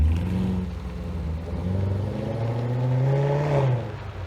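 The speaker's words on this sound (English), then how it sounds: "So when he delivered the car to the guy that bought it from him and it's leaving his driveway, John does a send-off pat." A Chevrolet Corvette Z06 engine rumbles loudly as the car pulls out of a driveway, its deep tone rising in pitch under acceleration before easing off, with no talk over it.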